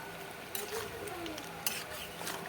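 Mutton curry being stir-fried in a pan, with soft sizzling and scraping as a spatula stirs the meat, with occasional sharper clinks of utensil against metal at close range.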